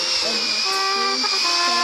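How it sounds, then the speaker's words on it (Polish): A power drill whines steadily at high pitch, its tone wavering slightly as it bores, loud and close without pause and with no talking. "wiertarkę przyniosłeś?"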